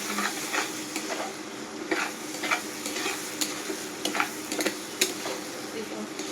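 Mashed bhorta gets stirred steadily in a hot pan, with a constant sizzle and repeated scraping clicks of the spoon against the metal.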